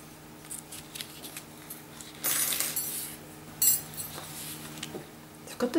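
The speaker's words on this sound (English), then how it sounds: "And now I can cut out my outline" Scissors cut around the outline of a paper card panel during handmade card crafting, producing a few light snips followed by longer crisp slicing strokes, close and clear in a quiet room.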